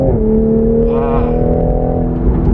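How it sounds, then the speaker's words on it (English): A 2020 Toyota Supra MK5 in sport mode downshifts, its engine holding a steady loud drone with a brief rising blip of revs midway, heard from inside the car. "a downshift is next level for sure"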